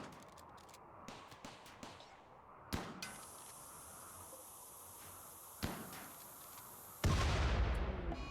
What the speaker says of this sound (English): they're actually really effective,